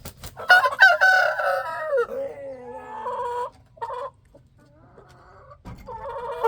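A rooster crows loudly and close by among a small flock of free-ranging backyard chickens, with drawn-out crowing followed by shorter clucking calls and brief quiet gaps.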